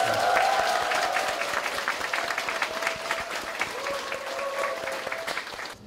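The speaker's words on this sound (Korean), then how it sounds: "그러니까 최고의 환호를 해주시기 바라겠습니다" An audience at a Korean community welfare council event applauds: dense, steady clapping from a crowd, loud and sustained, with a few voices mixed in before it slowly thins out.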